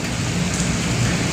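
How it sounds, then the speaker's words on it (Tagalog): Heavy, steady rain pours down beside the Pasig River at the Esplanade near a floating bridge, a dense, continuous hiss of drops on surfaces close by with a low rumble beneath and no talking. "ang ulan ay parang sa tingin ko walang tigil na to"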